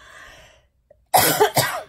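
A sharp cluster of coughs from a lingering cough bursts out after a quiet pause, loud and close, preceded by faint background sounds.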